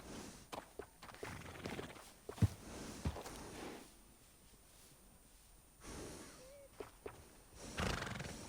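A horse in the video game Red Dead Redemption 2 gives a faint neigh and a snort, with a few scattered hoof thuds and footsteps in a quiet scene.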